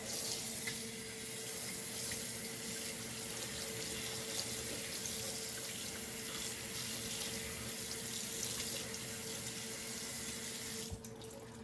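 Cold water runs steadily from a tap into a sink, a continuous hissing splash that stays even throughout, faint and uninterrupted.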